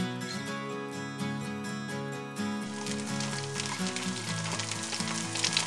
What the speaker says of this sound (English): They put what they needed to into a pan and fried it off until it had melted.